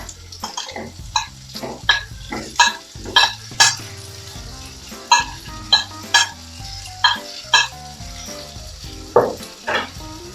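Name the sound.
stir-frying in a pan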